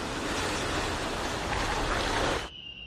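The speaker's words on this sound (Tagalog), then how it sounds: "Kasabay na malakas na buhos na ulan, ang hangin na nagpatumba sa ilang puno." Heavy typhoon rain and strong wind on Saipan in the Northern Mariana Islands roar as dense, loud, continuous noise that cuts off abruptly near the end.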